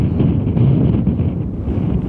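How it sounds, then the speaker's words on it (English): A strong West Texas wind gust during an outdoor golf tournament roars steadily across the microphone as a loud, low, buffeting rumble, with no talking. "It is blowing. I need to wait until this calms down. That's called a West Texas gust."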